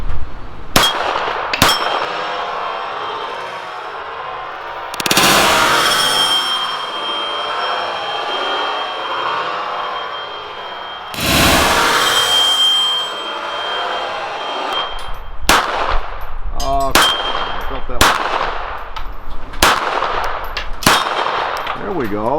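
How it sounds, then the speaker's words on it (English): A Girsan MC14 BDA .380 pistol fires at steel plates, sharp shots followed by ringing clangs from hit plates, a few spaced early, then a quicker string of shots and pings near the end. "it's a 380 pistol, 13 rounds in the magazine. Let's just see if I can hit anything"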